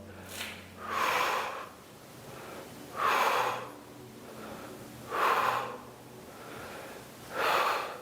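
Rhythmic breathing during bodyweight lunges, four strong, close breathy exhales spaced about two seconds apart with quieter inhales between them.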